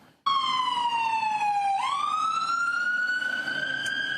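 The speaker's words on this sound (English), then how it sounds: "I'll wait for that ambulance to go by here for a second" A loud ambulance siren starts abruptly and wails close by, its pitch sliding down and then climbing back up in one long continuous sweep.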